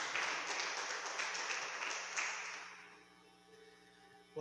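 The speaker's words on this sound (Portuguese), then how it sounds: "Você pode aplaudir a Jesus, você pode aplaudir ao Senhor." A church congregation applauds steadily during a service, then the clapping fades away into quiet.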